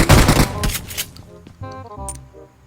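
Pistol fire in the video game PUBG comes as a loud, rapid volley of sharp shots at the start, fading into scattered quieter clicks and distant pops.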